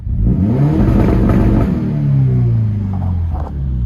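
A Subaru BRZ / Toyota GT86 with a 2.4 short block swap, clutch in and throttle floored, holds its engine against the launch control limiter, a loud steady rumbling rev that wavers slightly throughout, with no talking.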